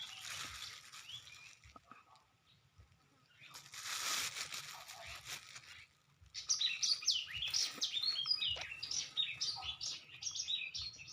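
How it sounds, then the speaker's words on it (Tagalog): Soft hissing and rustling at first, then many small birds chirp and twitter in quick, overlapping bursts, moderately close. "Ganda ng uni ng ibon guys,"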